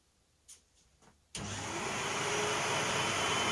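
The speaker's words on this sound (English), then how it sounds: "you can hear there that the hoover's running and that the air is coming through this outlet" A vacuum cleaner pulls air through a DIY workshop dust collection pipe and blast gate: a few soft clicks, then the motor kicks on abruptly into a loud, steady rushing roar that slowly builds.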